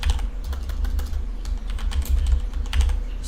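A computer keyboard clatters with quick, close keystrokes in short bursts while a terminal command is entered, with no voice.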